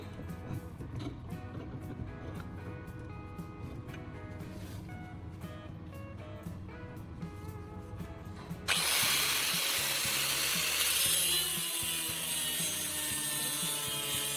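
An angle grinder fitted with a custom steel-plate saw blade cuts a piece of wood clamped in a vise. Light rattling and clicking give way midway to a loud, sustained, harsh cutting roar close by.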